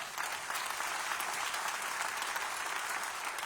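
A church congregation applauds the Lord during a service, a continuous even wash of many clapping hands, fairly soft and distant, sustained throughout without pause.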